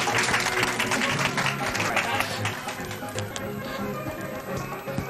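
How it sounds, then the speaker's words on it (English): A theater crowd at a Darcelle drag show applauds the choreographer and cast, dense steady clapping that fills the room with a hum of voices underneath. "One more round of applause."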